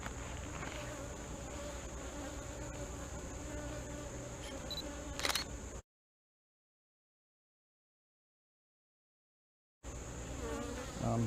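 Honeybees buzz steadily during a beehive inspection, a dense close drone that cuts to silence for several seconds before resuming, with no talk.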